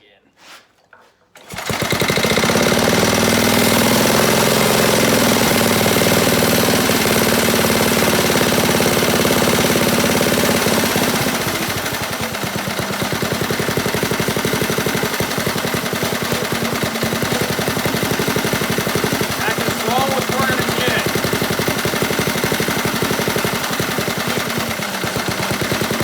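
A go-kart engine runs loud and steady after its idle is turned up, a continuous buzzing drone that starts abruptly and dips slightly partway through before holding at a rough, even rumble.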